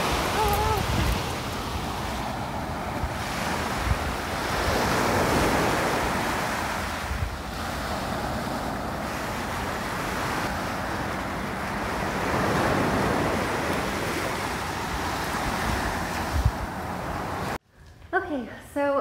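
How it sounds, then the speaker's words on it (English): Waves roll onto the shore at Nago Citizen Beach in Okinawa, Japan, a loud continuous wash of surf with wind buffeting the microphone, ending abruptly. "we decided to stop at Nago Citizen Beach, and the water is just beautiful everywhere in Japan"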